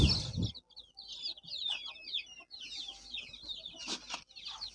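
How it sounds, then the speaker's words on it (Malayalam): About thirty Sonali native chicks chirp and cheep softly in rapid, overlapping calls, with an adult chicken clucking now and then. The sound is fairly faint and close, with no talking. "സൊണാലി നാടൻ കോഴിക്കുഞ്ഞുങ്ങളാണ് കൊണ്ടുവന്നത്"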